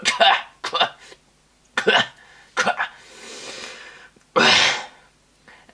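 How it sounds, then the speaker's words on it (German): A man coughs hard in several harsh, separate bursts, close up, ending with one loud, forceful cough after a breathy pause. "stieß er auf einmal ein ungeheures Husten aus, das den ganzen Körper mit einbezog"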